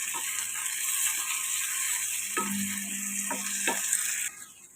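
Tomatoes sizzle steadily in a hot frying pan for an alasanda punugula curry, with several distinct scraping stirs of a utensil cutting through the frying sound up close.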